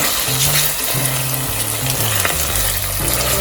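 Ginger-garlic paste fries with softened onions in an Instant Pot, giving a loud close crackling sizzle under steady stirring scrapes, with no speech.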